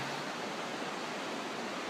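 Rapids on the Kettle River in Banning State Park roar steadily as white water rushes over rocks, a dense, continuous broadband wash with no voices.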